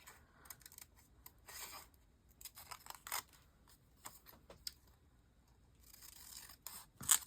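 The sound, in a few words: scissors cutting out paper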